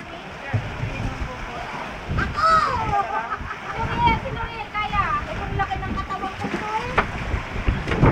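A boat motors through choppy water at Hundred Islands, Alaminos City, Pangasinan, Philippines, with splashing and wind noise, while several people talk nearby.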